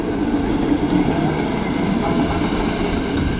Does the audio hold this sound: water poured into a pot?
no